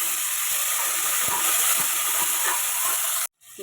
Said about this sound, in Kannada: ಎಣ್ಣೆ ಕಾದಿದೆ. ಇದಕ್ಕೆ ಕಟ್ ಮಾಡಿ ಇಟ್ಕೊಂಡಿರೋ ಈರುಳ್ಳಿ ಹಾಕ್ಕೊತಾ ಇದ್ದೀನಿ.